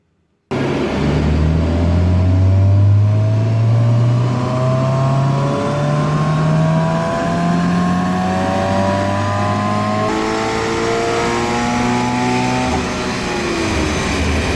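A Toyota GT86 running on a dyno, the engine revving loud and close, its pitch sweeping up steadily in long pulls and then dropping back, with no talk over it.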